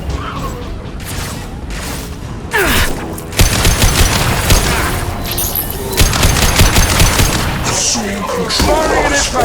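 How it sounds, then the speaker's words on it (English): Heavy impact-gun fire in Mass Effect 2 mixed with a clamorous battle, with loud bursts, crashes and booms stacked over a sustained din and a voice talking through parts of it. "Firing an impact gun!"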